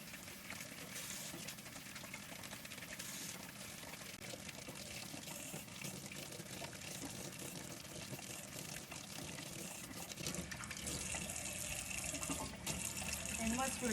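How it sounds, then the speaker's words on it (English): Eggs are washed one at a time with a blue sponge under a running kitchen tap, a steady splashing stream of water with soft scrubbing under it. "one by one, I clean them with a blue sponge"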